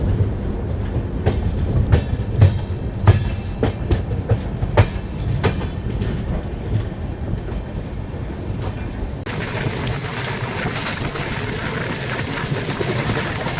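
A passenger train on the Howrah–Agra run rolls slowly around a curve, its wheels giving a steady clickety-clack with repeated sharp clicks over the joints, and a broad, brighter rumble of the moving carriages swelling near the end.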